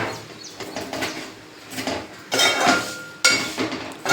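Sevaiya kheer stirred in a pot, with a metal spoon scraping and clinking against the sides in uneven bursts, close and fairly loud, the stirring growing stronger toward the end, no talking.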